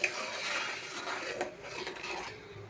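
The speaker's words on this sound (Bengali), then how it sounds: "একটু নেড়ে দেব" A utensil rasps and scrapes against a pan while chaltar (elephant apple) chutney is stirred, a steady close scraping with small clinks, faint and continuous with no talk.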